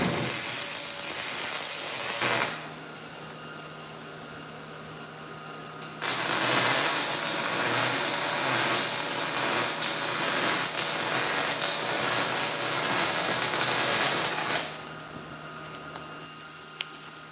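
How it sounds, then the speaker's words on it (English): Arc welding on a mining cart fitted with a new swiveling front end, heard as steady hissing, crackling bursts in two long runs separated by short pauses, close and fairly loud, with no talking. "Don't look directly into the weld"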